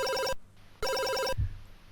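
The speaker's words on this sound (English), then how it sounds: "That phone's going off a lot, isn't it?" A game's telephone bell, from the 2020 homebrew Parsec on a ZX Spectrum 48K, rings in two quick electronic bursts separated by a short pause, followed by a dull low thump.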